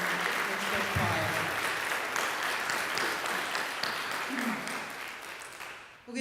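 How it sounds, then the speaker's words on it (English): Sustained applause from a large audience for a university choir at a baccalaureate service, dense and even clapping that fills the room for several seconds before tapering off at the end, with faint voices mixed in. "we need one more round of applause for the amazing Dr."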